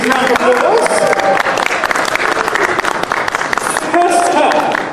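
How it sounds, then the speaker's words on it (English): Audience applause and cheering welcoming guests of honor onto the stage at a convention Q&A: a loud, dense wash of clapping with shouted voices and a faint tonal sound underneath, steady for the whole stretch. "With a huge round of applause."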